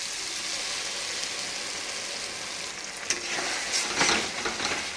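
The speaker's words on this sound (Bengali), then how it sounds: "কাজু পোস্ত পেস্ট দিয়ে ভালো করে ভাজতে হবে" Cashew and poppy seed paste fries in a pan with a steady close sizzle, joined in the later half by scraping stirs and a few knocks of a spoon against the pan.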